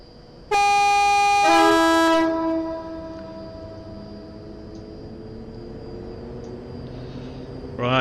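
A train horn blares loud and close as a train departs on the West Coast Main Line in Train Simulator Classic, holding about two seconds before fading into a steady engine rumble with a faint hum underneath.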